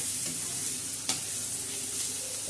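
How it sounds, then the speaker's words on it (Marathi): Masala fries and is stirred in hot oil, a dense close sizzle with scraping stir strokes and one sharp clink of the spoon partway through. "चांगल्या तेलामध्ये भाजला गेलेला आहे त्या पद्धतीने हा भाजून घ्यायचा असा"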